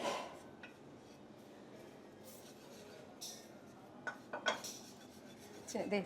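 Spices are stirred in a pan while fish curry cooks, with soft scraping and a few sharp metallic clinks of a spoon against the pan, quiet and close.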